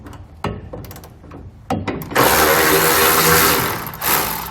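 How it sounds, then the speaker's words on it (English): A ratchet with a 13mm socket removes a bolt behind the license plate during a trailer hitch install on a 2017 Chevrolet. A few sharp, separate clicks come first, then a loud sustained whirring rush. "We're going to remove this bolt with a 13mm socket."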